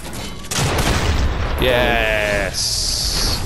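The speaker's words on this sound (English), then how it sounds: "let's get him with a shotgun" Combat shotgun blasts in Fortnite, a burst of loud gunfire early on followed by sharp mechanical pumping and reload sounds, with players talking over the action.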